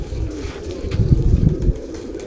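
Cooing from a Daku pigeon, a prized breeding cock kept for years to fly young birds, heard as low, close, rhythmic murmurs with wind rumble underneath and no talk.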